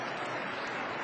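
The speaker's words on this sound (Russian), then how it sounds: "Овации на ногах." Applause and a standing ovation from a figure skating arena audience at the end of a pairs program at a 2003 Grand Prix event, a steady dense wash of clapping filling the hall without a break.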